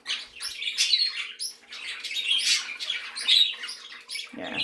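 Turquoisine parakeets in an aviary chirping and squawking continuously, several birds giving overlapping bright, sharp calls at close to moderate distance with no talking.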